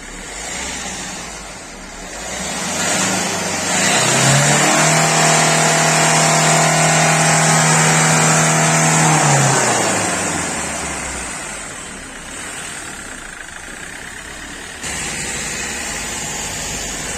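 A Hyundai Era diesel engine, running with no one inside during catalytic converter cleaning, climbs from idle into a loud, sustained rev, holds high for several seconds, then winds back down to a steady idle.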